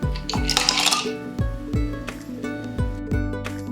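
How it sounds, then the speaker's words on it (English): Ice cubes drop one after another into a green tea and blueberry smoothie mixture, giving a series of close, bright clinks and knocks at an uneven pace. "Then we add ice cubes."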